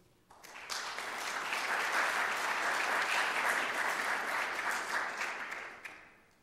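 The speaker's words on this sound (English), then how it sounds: "Let's give another round of applause for our presenters" An audience applauds its presenters at a senior community services gathering, a dense, steady clapping that swells quickly and holds for several seconds before tapering off at the end, with no talking over it.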